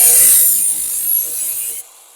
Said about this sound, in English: So I need to get my disc and cut it.